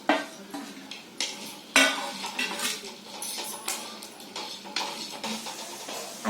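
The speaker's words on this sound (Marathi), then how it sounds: "आता हे खडे मसाले, लसूण आणि थोडीशी डाळ आहे ना ते पण सर्व भाजून घेते एकत्र." Whole spices, garlic and a little lentil being dry-roasted together in a pan, giving repeated scraping stirs and metallic clinks of a spoon against the pan, with faint sizzling between the strokes, steady and close.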